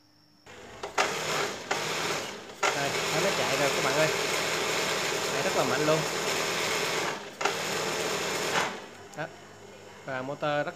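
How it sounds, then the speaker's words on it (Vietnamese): Industrial sewing machine motor run during a repair test, several bursts of steady mechanical whirring that start and stop abruptly, close and fairly loud. "cách mà kiểm tra cái motor của cái máy may công nghiệp"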